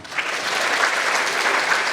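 Steady audience applause at a youth recognition event, a dense, even wash of many hands clapping close by, with no voices over it.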